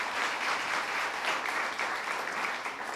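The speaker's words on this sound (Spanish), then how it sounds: "este es un aplauso para Luisa" Audience applause for Luisa, a creator, at a neighbourhood cultural gathering: a steady wash of many hands clapping, moderately distant and fairly quiet, with no voices over it.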